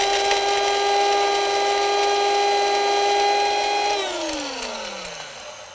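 A small electric grinder whirs steadily as it grinds a coarse salt mixture into powder, a loud even high whine that winds down in pitch near the end, with no talking.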